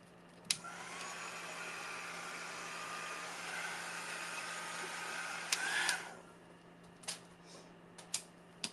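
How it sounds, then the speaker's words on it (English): Handheld craft heat tool drying ink, a steady loud whooshing fan hum running for about five seconds before cutting off, followed by a few faint clicks and taps. "I'm getting my heat tool so I can dry the ink"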